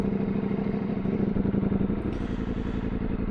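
A motorcycle engine runs steadily and close by with a low, throbbing rumble and a clattery texture, heard on its own without talk for the whole stretch.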